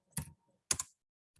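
Two quick clusters of clicky keystrokes on a computer keyboard, close and crisp, separated by a short pause, with a faint tap at the end.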